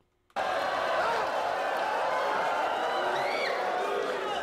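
A crowd at a rap battle erupts suddenly after a short silence and keeps up a loud, continuous wash of cheering and shouting until the end.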